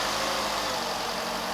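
A 2012 Vauxhall Corsa engine held at raised revs, a continuous steady engine drone with a faint vibrating hum, close and constant with no speech.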